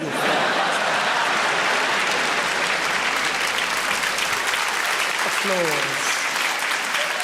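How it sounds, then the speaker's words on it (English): A theatre audience at a Live at the Apollo stand-up comedy show breaks into loud, sustained applause that fills the whole stretch, dense and steady, with a brief voice surfacing near the end. "Applause."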